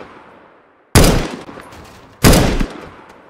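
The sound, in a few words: gunshot from a sniper shot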